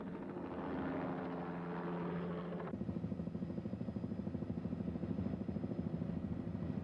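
A helicopter flies low over wildlife during a darting operation, its rotor beating in a steady rapid thump that grows sharper and more pronounced partway through, loud and close with no voices.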